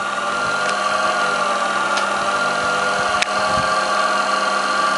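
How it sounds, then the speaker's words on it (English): A universal motor runs at speed set by an AC phase-angle controller on a lab bench, giving a steady, continuous whining hum with a few faint clicks and no talking. "you can increase or decrease the speed of this universal motor"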